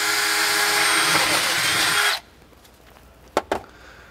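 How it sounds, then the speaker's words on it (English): A power drill bores a hole through an RV bathroom countertop in a steady, loud grinding whir for about two seconds, then stops, followed by a couple of sharp knocks. "our first step in cutting the countertop out is drilling a hole"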